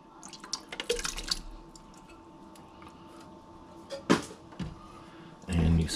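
Beef broth and canned tomatoes going into a soup pot, with faint drips and splashes, a louder wet plop in the middle, and a short burst of pouring near the end.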